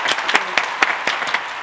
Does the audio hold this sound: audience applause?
yes